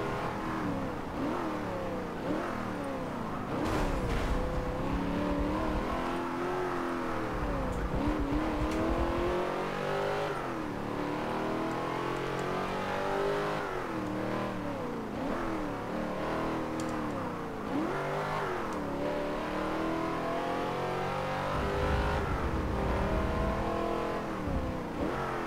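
Chevy race car lapping Laguna Seca in the Forza Motorsport 7 racing game, its engine revving loud and continuous with repeated upshifts and throttle lifts, occasional tire squeal, no talk.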